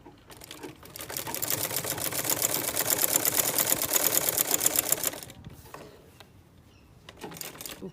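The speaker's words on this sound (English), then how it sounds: "take it to the sewing machine and you sew" A sewing machine stitches down a trouser zip in a steady, fast mechanical run of about five seconds, then stops. Faint handling noises follow.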